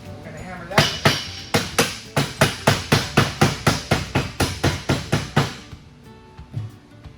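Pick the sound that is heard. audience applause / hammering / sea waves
hammering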